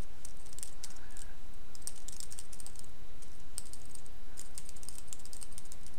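Fast, irregular typing on a computer keyboard during networking command entry, close and distinct clicks in quick clusters with brief pauses, over a steady background hiss.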